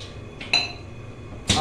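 A pressure cooker lid is set on and closed over mutton cooking with water, giving two or three short metallic clanks and clicks, the last the loudest, close by in a quiet kitchen.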